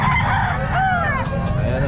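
A rooster crows loudly and close by at the Calumpit poultry market, one drawn-out call over a busy background of other fowl and market noise.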